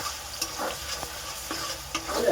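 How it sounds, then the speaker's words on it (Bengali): Ginger, garlic and green chili fry in hot oil for chili chicken, a soft steady sizzle broken by several scraping stirs of a spoon in the pan. "এবারে আদা, রসুন আর কাঁচা লঙ্কাটা দিয়ে দেবো। দিয়ে একটু ভেজে নেবো"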